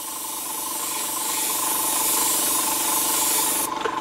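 A brush works paint around the edge of a model terrain stencil, making a close, continuous scratchy rubbing hiss that runs steadily and stops abruptly near the end.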